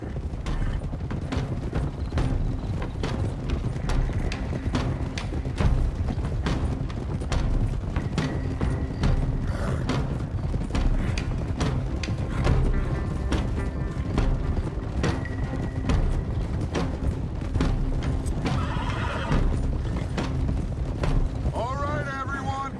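Horses clop and trot steadily on a trail in the Red Dead Redemption 2 video game, with tack creaking and a faint neigh, under constant ambient game sound and talking voices.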